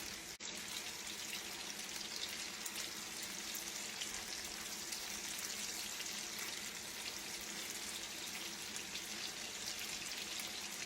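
Swedish meatballs frying in a pan give a steady, dense sizzle that runs continuously and evenly throughout, close and moderately loud.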